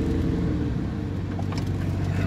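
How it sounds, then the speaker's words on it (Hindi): A Suzuki Mehran climbs a steep road in the Margalla Hills near Islamabad in first gear, its engine a loud, strained, low droning hum that holds steady throughout with no talk. "पहला गियर लग चुका है मेहरान का"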